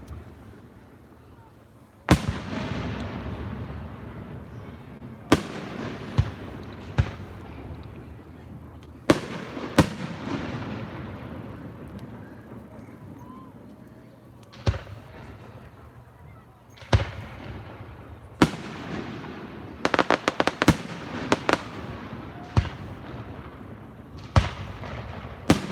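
A fireworks display seen from a cruise on the Erie Canal at Baldwinsville, New York, with loud booming bursts arriving irregularly, each followed by a long rumbling echo, clustering into rapid reports near the end, with occasional voices.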